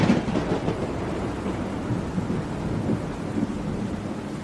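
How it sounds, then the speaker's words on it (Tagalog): Rolling thunder booms over steady rain at night, a continuous wash of rainfall with deep, low rumbles surging and fading throughout, fairly loud and without voices. "ang lakas po ng kulog at kidlat, no?"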